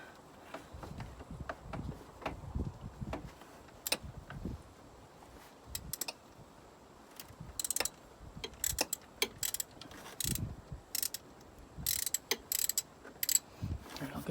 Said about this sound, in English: So you just slide the socket on, take it off, take the nut off.